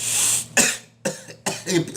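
A post-COVID patient coughs four times in quick succession during a lung test, close and abrupt, with short pauses between each harsh burst.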